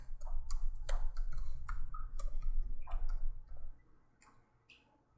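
Quick, light clicks of typing on a computer keyboard come in an uneven burst over a low hum, then trail off into near quiet.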